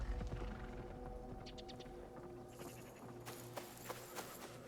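Quiet hoofbeats of a horse trotting off in the video game Assassin's Creed Shadows, a few soft clip-clops over a low musical ambience, with faint game sounds drifting in later.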